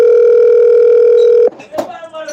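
A phone sounds a loud, steady electronic tone that holds unbroken for about a second and a half, then cuts off abruptly, followed by a few brief handling noises.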